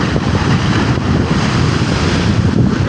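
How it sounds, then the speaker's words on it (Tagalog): Large ocean waves at sea heard from a fishing boat, a loud continuous rushing wash mixed with heavy wind buffeting the microphone. "Yan, kalalaki ng alon mga idol."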